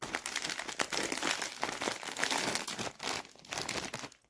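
A plastic snack bag of Lulu cheese snacks is crinkled and torn open up close, with dense irregular crackling and rustling throughout, no talk.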